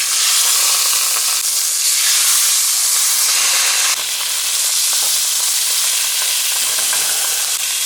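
Food sizzles loudly skin side down in butter in a hot pan, a steady dense frying hiss filling the whole stretch with a brief dip midway.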